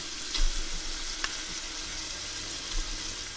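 Beef stew meat sizzling in a chili pot, a steady close hiss with a couple of soft bumps and a clink, no voices.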